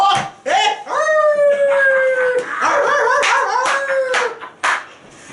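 A dog howling in long, rising and falling wails mixed with short barks and claps, close and loud, with voices talking around it.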